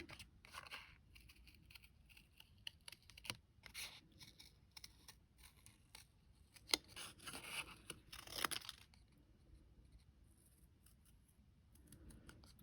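Scissors trim small paper pieces for a clockwork-themed craft tin, a quiet close series of crisp snips in irregular bursts separated by short pauses.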